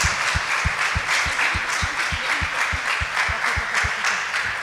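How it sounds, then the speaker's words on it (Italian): A church congregation at a worship service applauds to welcome a missionary, with loud, dense clapping and a steady rhythmic beat of unified claps running through it. "Accogliamo quindi la missionaria Lucileia con un applauso"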